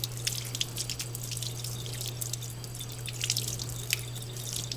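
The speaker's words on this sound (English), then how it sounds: "And then you have this filter, which you just rinse out in some water." An iLife A6 robot vacuum filter is rinsed in water, giving scattered light drips and splashes over a steady low hum.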